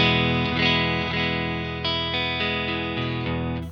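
A clean electric guitar tone through a TateFX Dream 65 amp with a touch of reverb plays steady sustained chords and notes, close and moderately loud, with no voices.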